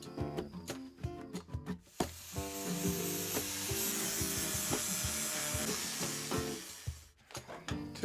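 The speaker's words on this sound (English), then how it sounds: "I'm gonna clamp them and sand them like that." Clamped olive wood pieces are hand-sanded in a long, steady, scratchy rubbing stretch in the middle, framed by sharp knocks and handling clatter at the start and end, over faint background music.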